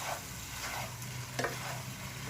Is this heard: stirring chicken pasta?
yes